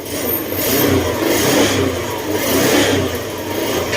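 A Honda Click 125 motor scooter engine revs continuously, rising and falling in surges, fairly close and loud, with no talking over it.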